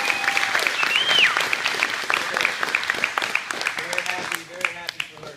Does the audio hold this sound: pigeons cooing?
no